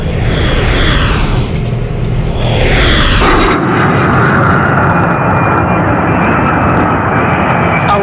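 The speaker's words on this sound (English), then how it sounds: "That huge plane right there is called into battle an out-of-control wildfire in San Luis Obispo County." A huge firefighting airplane roars overhead above an out-of-control wildfire in San Luis Obispo County, California, its engines loud, close and continuous, with the pitch sweeping as it passes.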